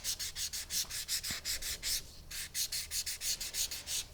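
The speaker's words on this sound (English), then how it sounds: "And I'm going to work my way through the sanding sponges." Soft sanding sponges rubbed over copper clay for a rose cuff bracelet, a close, rhythmic scratchy rasping in quick repeated strokes with one short pause midway.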